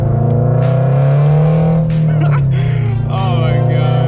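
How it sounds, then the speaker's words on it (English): A car fitted with catalyst headers gives a loud, close exhaust drone that rises and falls slightly as the engine revs, with a voice briefly heard over it. "Exhaust never gets old, you guys"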